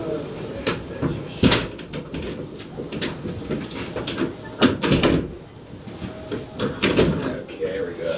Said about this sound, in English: Let me shut this door over here.